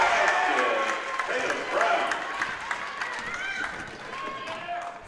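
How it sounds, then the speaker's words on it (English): Crowd cheering at a girls' high school basketball tournament game in a gym, a steady wash of voices and shouts with squeaks and thuds from play beneath a commentator's talk. "Lady Indians cheering on their teammates"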